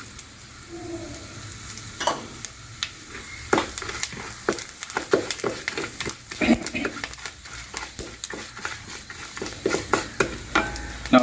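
Urad dal, raisins and cumin seeds crackle and sizzle in hot oil for Udupi-style lemon rice, with sharp popping spatters over a steady frying hiss and occasional stirring scrapes, close and fairly loud, no talking.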